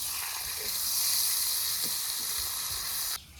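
A paste of ginger, garlic, onion and green chilli with cumin and coriander powder sizzles loudly in a hot pan for a Bengali raw jackfruit and goat liver dish, steady close frying hiss that cuts off abruptly near the end.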